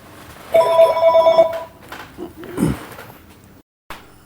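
A telephone rings indoors, a single bright electronic trill lasting about a second, followed by handling noise and a faint thump; no one speaks.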